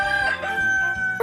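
Rooster crowing a single loud, close cock-a-doodle-doo with a drawn-out strained tone, ending in a short final rise, with no other sounds around it.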